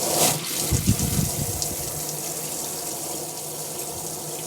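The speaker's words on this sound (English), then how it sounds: "Once you've got a nice steady flow of water as we have now" Steady running water pours from a caravan tap, a continuous even splashing flow with a brief louder burst at the start, alone without voices.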